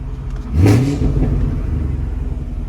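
A built 2022 Chevrolet Camaro SS 1LE V8 blips up in one sharp rev that rises and falls back, followed by a burbling idle with a string of crackling exhaust pops, loud and close.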